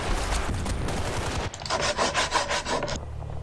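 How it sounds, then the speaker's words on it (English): Wood being sawn in Battlefield Bad Company 2, a repeated rasping stroke rhythm that grows clearer in its second half amid game noise, close and fairly loud. "Sawing wood."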